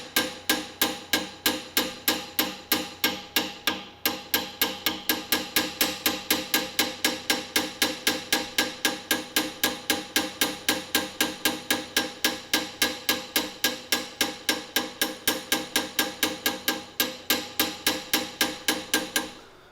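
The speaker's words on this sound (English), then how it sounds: "I always like to peen the edges just slightly." A small hammer peening the edges of a touch hole liner seated in a countersink on a Southern Mountain Rifle barrel: a long, even run of light, rapid metallic taps that is close and continuous, with no voices.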